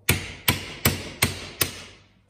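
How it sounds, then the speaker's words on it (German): Five sharp hammer blows ring out on the metal exhaust pipe of a Fendt Vario 820 tractor at an even, steady pace, each strike leaving a brief metallic ring. "Bisschen größeren Hammer nehmen"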